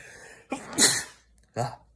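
A single sharp sneeze close by, with a brief intake of breath before it, then a short vocal sound after.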